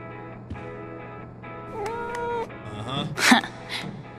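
A cat meows in the video game Life is Strange True Colors, a few whiny drawn-out mewing calls close by over a steady low hum, with a sharper squeak near the end.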